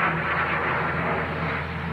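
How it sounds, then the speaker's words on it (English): Airplane in the 1979 film Moonraker, a steady loud engine roar and rumble holding constant without breaks. "That's the airplane."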